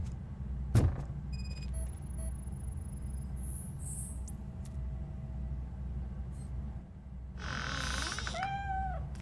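A cat meowing in RoboCop: Rogue City, a few drawn-out high meows near the end over a low ambient rumble, preceded by a sharp thump.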